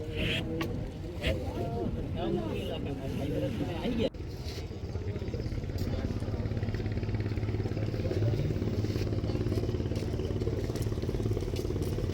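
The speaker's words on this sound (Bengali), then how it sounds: "ছোট একটি নৌকা" A small motor boat running on the Kirtankhola river near a ferry ghat, its engine droning steadily and fairly close throughout, with voices talking over it.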